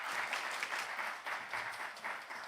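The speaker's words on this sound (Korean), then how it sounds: "우리 수고해 주신 우리 임준국 교수님께 우리 박수 한번 보내드리도록 하겠습니다" Audience applause for a professor at a Korean university academic symposium commemorating the Reformation: steady, dense clapping from a seated crowd, sustained at moderate volume throughout without talk.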